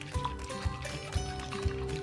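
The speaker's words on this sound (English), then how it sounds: "Add the vegetable oil" Vegetable oil is poured into a bowl of egg, sugar and milk batter for Japanese hotcakes, giving a short, quiet, close pouring trickle with soft periodic thuds underneath.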